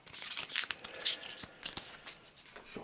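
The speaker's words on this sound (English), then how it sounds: "Shuffle them back." Game cards shuffled during a tabletop board game session, a run of rapid papery riffles and soft slaps repeating unevenly for a few seconds, fairly close.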